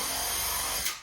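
A power drill bores into a wood carving held between leather work boots, a steady whirring grind at close range that eases off at the end, with no talking.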